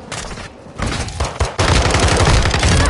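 Dense, loud gunfire from a PS4 shooter game, a continuous fusillade of rapid automatic shots that briefly dips and then returns heavier and sustained with no talk.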